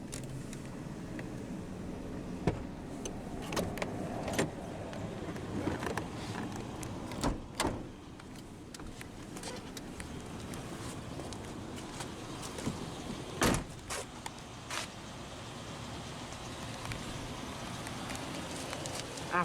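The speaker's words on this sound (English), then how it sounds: "we'll go ahead and roll down the driver's window" Driver's power window of a 1998 Chevrolet K1500 Silverado Z71 extended cab rolling down, a steady low motor whir with scattered clicks and thumps over about twenty seconds, fairly quiet with no talking.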